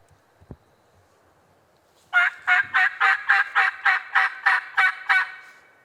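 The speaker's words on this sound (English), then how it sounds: "if they'll keep gobbling though" Wild turkeys gobble in Georgia pines: after a quiet stretch with a couple of faint knocks, a loud, close rapid series of about ten rattling gobble pulses bursts out and runs to the end.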